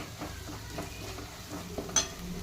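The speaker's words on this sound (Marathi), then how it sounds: "आता छान परतवून घेऊया" Soft sizzling of garam masala and turmeric in a pan with a few light scraping stirs, quiet and close, with no talking.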